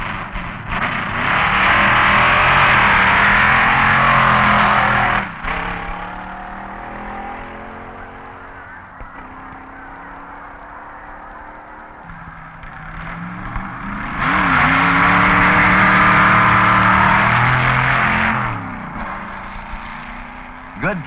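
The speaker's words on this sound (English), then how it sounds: "Jesse Vandevetter's brief auto entry running an injected Chevy for power." A B-modified roadster with an injected Chevy engine runs at a drag race, the 1961 NHRA Winternationals. Two loud, roaring bursts of revving stand out, with a lower steady engine drone in between.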